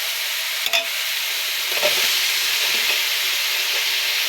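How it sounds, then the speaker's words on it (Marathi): Tomatoes hitting hot reddish masala in a pan for chicken biryani, a loud continuous sizzle with stirring scrapes and a brief clatter as they go in, close up. "आता इथे आपण टमाटर टाकून घेऊया"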